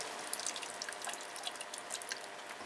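Soaked orchid husks are squeezed by hand, water trickling and dripping into a container of RO water in a faint, continuous patter with scattered brighter drops, close up and without talk.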